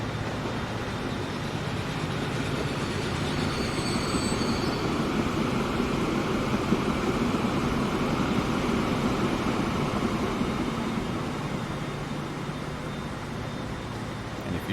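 A train rolls past in the Transport Fever 2 video game, a steady loud rumble of wheels on track with faint squealing tones, continuous throughout.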